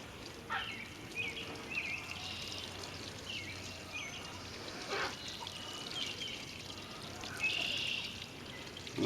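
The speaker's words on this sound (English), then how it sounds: "I'm going to water that in real good" Water pours steadily from a can onto vegetables and beans in a container garden, a soft, continuous splashing with birds chirping outdoors in the background.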